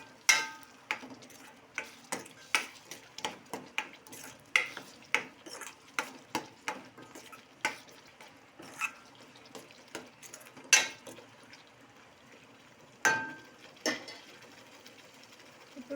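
A spoon stirs palak curry with coriander powder in a pan, giving repeated scraping strokes in an uneven rhythm with a low background sizzle and no talking.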